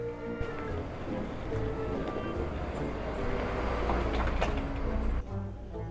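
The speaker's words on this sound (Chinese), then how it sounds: "我现在人已经在台湾的捷运上了，就是地铁吧" A Taiwan metro train interior in Tainan, with a steady low rumble and rushing noise throughout the ride and a few faint clicks, until the sound drops off near the end.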